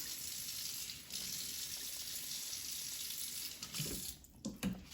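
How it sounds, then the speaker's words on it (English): Kitchen tap running steadily into a sink to wet fingers before brushing water on dough, a continuous hiss of flowing water that breaks into a few splashes and handling noises at the end. "I just get my fingers wet and I put a little water on top"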